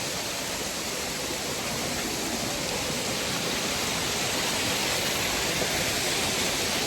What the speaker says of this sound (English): So apparently it's a waterfall, easier accessible